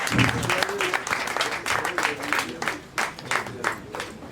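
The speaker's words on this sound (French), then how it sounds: "Il faut applaudir pour l'encourager." An audience claps to encourage a girl stepping forward, a fairly close, uneven burst of hand claps with voices murmuring underneath.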